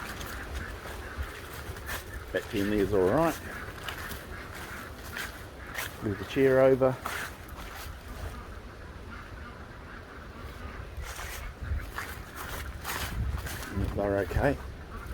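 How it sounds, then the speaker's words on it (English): Ducks in a farm pen quack and honk in short noisy bursts, several separate outbursts close by, while someone talks over them. "Ducks are noisy"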